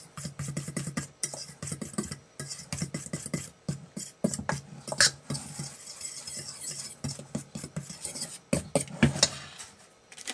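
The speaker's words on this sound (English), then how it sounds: "Give that all a stir." Baking powder biscuit ingredients are stirred in a bowl: a run of quick, close scraping and clinking strokes in an uneven rhythm, with short pauses between bursts and no voices.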